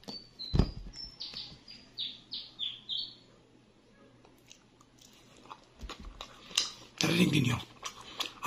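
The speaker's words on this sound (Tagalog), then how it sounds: "Narinig ninyo ang huni ng mga ibon." Small birds chirping in short, high-pitched repeated calls early on, with faint chewing and crunching sounds of someone eating breakfast nearby, followed by a louder burst of noise toward the end.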